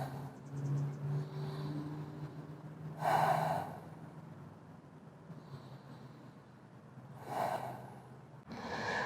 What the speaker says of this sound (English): We'll take a couple of breaths here.